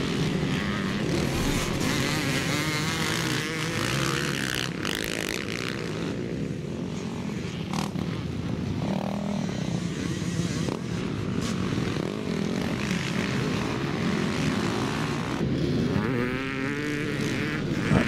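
Motocross bikes racing at Forestmill, Clackmannan, including a 4-stroke Suzuki, with steady droning engines carrying from a distance across the whole stretch and no clear talk.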